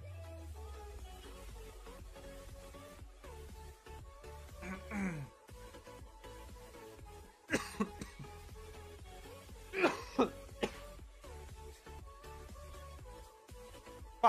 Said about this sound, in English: Fuck this cough.